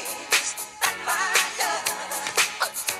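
A pop song plays with a steady, punchy drum beat and layered instruments, at moderate volume without anyone talking over it.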